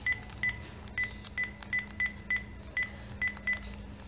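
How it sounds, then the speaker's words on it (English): A OnePlus 3 phone plays keypad dialing tones as a number is entered, about ten short clear beeps at an irregular quick pace over a faint background hum. "I'm just going to make a call on this number"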